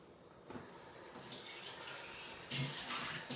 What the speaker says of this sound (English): Let me just rinse out my